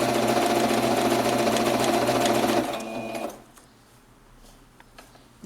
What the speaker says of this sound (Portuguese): Por isso que eu tô costurando ele primeiro.